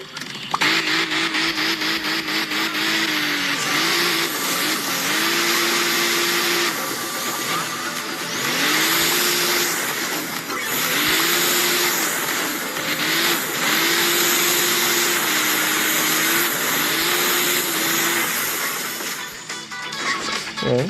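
A revving muscle car engine in the video game Hill Climb Racing 2 roars steadily throughout, its pitch rising and dipping in repeated surges as gears shift, with no talking.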